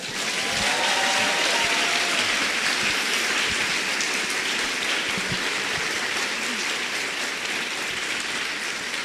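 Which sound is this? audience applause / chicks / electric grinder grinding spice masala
audience applause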